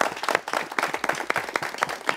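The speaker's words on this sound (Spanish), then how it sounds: "un aplauso a ellos" Applause from a church family gathering honoring a monsignor and companions, a crowd clapping briskly with dense, uneven claps over a couple of seconds.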